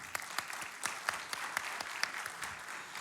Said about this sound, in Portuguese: Salva de palmas para Mário.